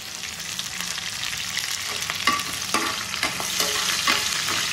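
Curry leaves and green chillies crackle and spit in hot oil while being stirred, with sharp pops and scraping strokes over a continuous sizzle, close and fairly loud.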